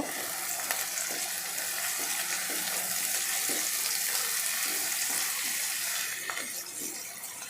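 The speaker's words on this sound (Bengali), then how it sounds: "পেঁয়াজ কুচি রসুন কুচি আর হচ্ছে কাঁচামরিচ এগুলো আমি তেলে দিয়ে দিব" Chopped onion, garlic and green chilies frying in hot oil for a fish-head curry, giving a steady, dense sizzle and crackle throughout with faint clinks, close and loud, with no talking.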